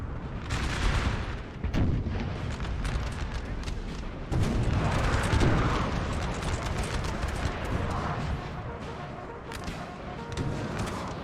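Canister shot artillery fire in a Napoleon Total War 4v4 battle, loud repeated booms and crackling volleys layered over dense continuous battlefield din.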